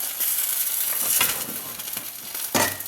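Vegetables stir-fry over high heat, sizzling steadily in a hot pan, with a couple of louder scraping stirs of a utensil.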